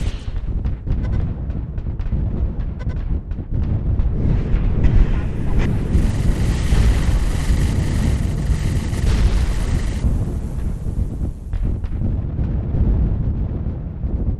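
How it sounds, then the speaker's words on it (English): Cannons in the Balloon Invasion video game fire over and over, a dense run of loud booms and bursts packed tightly together across the whole stretch with no talk. "they are firing like on every single cannon that we have."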